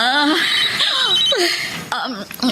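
A cellphone ringtone chirps in a repeated high electronic pattern, partly buried under an emotional Tagalog conversation, with voices talking loudly over it throughout.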